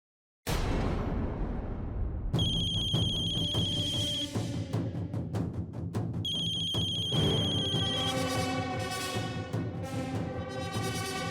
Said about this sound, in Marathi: त्याच्या मोबाईलवर फोन कर आणि फोन स्पीकरवर टाक